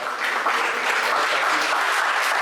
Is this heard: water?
no